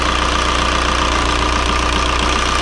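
A VW 1.9 TDI ALH diesel with an opened injector line idles roughly, its steady loud clatter and low throbbing pulse running continuously and close up, with no talk over it.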